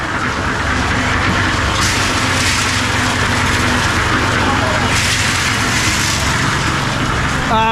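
A concrete mixer churning on a remote building site, its drum tumbling gravel with a continuous loud rumbling and grinding, steady from start to finish, with a voice talking over it.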